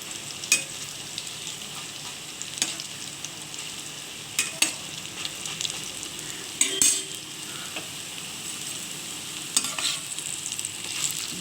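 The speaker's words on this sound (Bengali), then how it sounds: "এই দেখুন কত সুন্দর বড়াগুলো ভাজা হচ্ছে।" Pumpkin, potato and pointed gourd fritters fry in oil over low heat with a continuous sizzle, broken now and then by sharp clinks and scrapes as they are turned, and no one talks.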